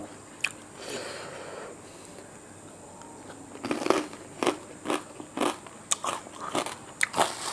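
Crunchy pork rinds get bitten and chewed close up, a quiet start giving way to a rapid series of sharp, crackly crunches in the second half.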